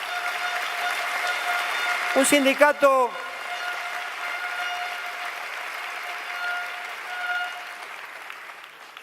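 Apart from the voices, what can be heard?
audience applause at a union assembly speech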